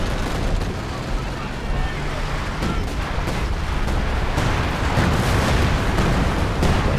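Artillery barrage in Company of Heroes 2, a 3v3 match on Port of Slamburg: a dense, continuous rumble of distant shelling and explosions with scattered sharper booms, sustained throughout and growing slightly heavier toward the end.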